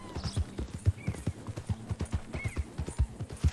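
Horse hooves clip-clop at a steady trot in Red Dead Redemption 2, evenly spaced close thuds with a brief whinny-like tone in the background.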